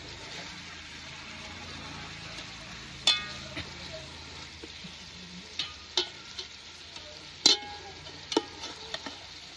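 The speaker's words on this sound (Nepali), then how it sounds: "अहिले चाहिँ एकदम मजाले फ्राई गर्नुपर्छ त्यसलाई" Biryani ingredients frying in a pan, a steady hiss of sizzling oil broken by several sharp clanks of a spoon stirring against the pan, close by and without speech.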